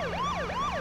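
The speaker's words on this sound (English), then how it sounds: "You could turn the sirens on." A police squad car siren in the video game H1Z1 wails in smooth, repeating rising and falling sweeps, loud and close, with no voices over it.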